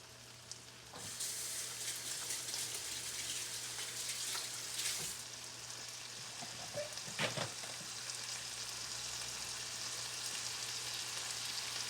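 Brussels sprouts fry in a hot pan, a steady close broadband sizzle running throughout with a few brief clinks and stirring knocks, no talking.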